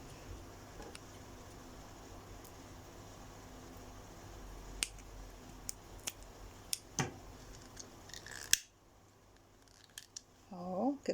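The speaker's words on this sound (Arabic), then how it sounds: "بعد كده هنقص الخيط بتاعنا الزيادة اللي فيه" Scissors snip excess thread while a seashell chain necklace is made, a few sharp isolated clicks and snips over quiet room noise, close and fairly faint, with a louder snip near the end.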